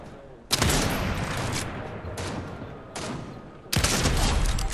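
Gunfire rings out in the video game Fortnite in three loud bursts of rapid shots, the last one heaviest, with brief lulls between and no talking.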